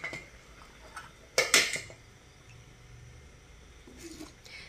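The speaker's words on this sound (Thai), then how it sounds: "เดี๋ยวเรามาตักเสิร์ฟกันค่ะ" A ladle clinks against a pot while green curry with pork and eggplant is scooped for serving, a couple of sharp metallic knocks followed by faint scraping in a quiet kitchen.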